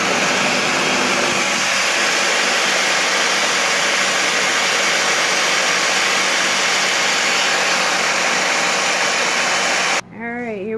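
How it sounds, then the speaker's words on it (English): A blender whirs steadily as it mixes butter for a gluten-free, dairy-free chocolate cake, a loud continuous motor drone that cuts off abruptly near the end, followed by a brief voice. "the butter's going in the blender. And we're going to mix that together"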